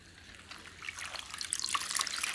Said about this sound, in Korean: 이때는 치댄 다음에 한 번만 그냥 헹궈주면 돼요